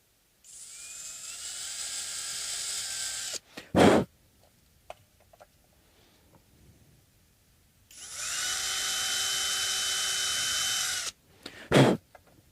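Power drill boring into the nut of a Univox Hi-Flier guitar, heard as two sustained high, whining bursts a few seconds apart, each followed by a short louder blast, with quiet handling noises between and no talking.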